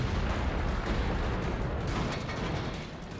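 Tank cannon fire from a T29 in a tank video game, heard as a dense, continuous rumble of heavy booms and battle noise that stays loud throughout and eases off slightly at the end.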